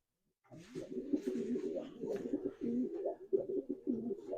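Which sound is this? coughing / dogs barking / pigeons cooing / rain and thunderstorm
pigeons cooing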